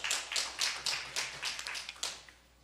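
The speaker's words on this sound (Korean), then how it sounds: "하나님께 영광의 박수 올리겠어요." A congregation at a Korean church revival service claps in loud, rhythmic unison, with steady bursts about two or three per second and no talk over it.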